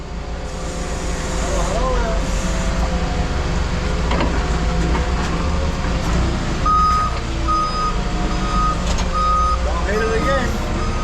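A truck backs up at a scrap metal recycling yard, its engine rumbling loudly while high reversing beeps repeat through the middle and later stretch, with people talking nearby.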